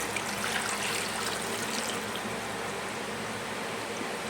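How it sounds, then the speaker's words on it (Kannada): Water is poured into a pot holding ten eggs before boiling, producing a steady, soft splashing and trickling that continues evenly throughout, with no voices. "ಅದ್ರಲ್ಲಿ ನೀರು ಹಾಕ್ಬಿಟ್ಟ"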